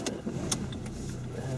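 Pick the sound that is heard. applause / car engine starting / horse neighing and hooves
car engine starting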